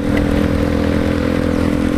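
Steady, loud motorcycle engine drone while riding, a constant low hum with wind noise and no speech.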